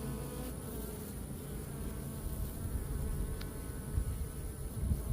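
Steady low buzzing of many honeybees at a hive, a dense continuous hum close by with no voices.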